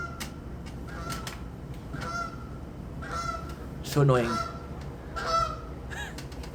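Geese honking outdoors, a handful of separate nasal honks spread over several seconds, one louder and nearer call near the middle, with a person talking briefly alongside them.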